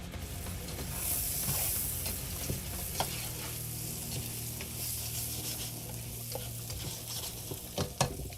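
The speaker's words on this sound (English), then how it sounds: "I'm gonna stop sauteing that." Food sautés in a pan for a jerk stew, giving a soft, continuous sizzle with repeated scraping stir strokes and occasional sharp utensil clicks against the pan at a moderate distance.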